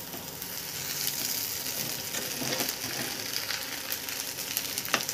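Sabudana khichdi being stirred and sautéed in a pan, with a steady, fairly loud sizzle and scattered scraping and clinking of the spoon throughout, no voices.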